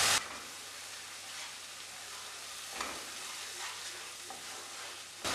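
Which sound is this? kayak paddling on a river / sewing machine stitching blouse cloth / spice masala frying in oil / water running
spice masala frying in oil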